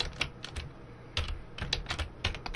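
Computer keyboard keys pressed during 3D sculpting work, a run of quick, fairly close clicks in uneven bursts with a pause midway, heard alone without talk.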